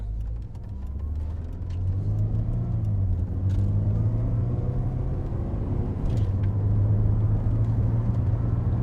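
A 1998 Mercedes R170 SLK230 Kompressor accelerates on the road with a steady, deep engine rumble that rises in pitch through the pull, heard from inside the car without speech.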